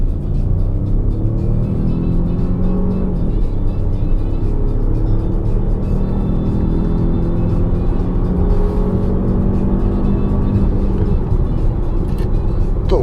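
A Citroen C5 Aircross with a Stellantis three-cylinder engine cruising on a motorway, giving a steady low engine drone and road rumble heard from inside the cabin, continuous and fairly loud.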